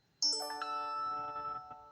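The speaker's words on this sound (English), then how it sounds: "Is that your phone?" A phone rings with a bright electronic chime, a short melodic run of tones sustained for over a second, heard outdoors at a Michigan boat ramp, moderately loud with faint background noise and no talk.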